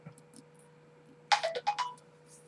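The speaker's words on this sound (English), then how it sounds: "Yes, that was my phone." A phone rings once with a short electronic melody, a quick burst of bright tones rising above a quiet room with a faint steady hum.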